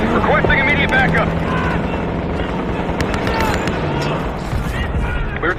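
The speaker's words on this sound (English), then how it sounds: "We're taking heavy fire at the helo." A helicopter in Call of Duty: Black Ops 6 drones steadily under heavy fire, its rotor hum joined by scattered gunshots and distant game voices throughout.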